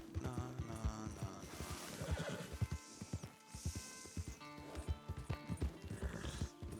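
A horse in Red Dead Redemption II, with hooves clip-clopping steadily and whinnies, under game music and ambient sounds.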